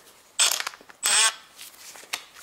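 A ratchet with a 10 mm socket working camshaft bolts on a Toyota 1.8 2ZZ-GE VVTL-i engine gives two loud bursts of rapid clicking, followed by softer clicks and metallic handling, close by with no talk.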